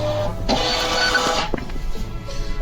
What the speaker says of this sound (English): So now we are going to print here, and you can see